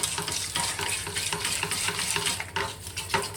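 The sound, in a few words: stirring white roux sauce in a pan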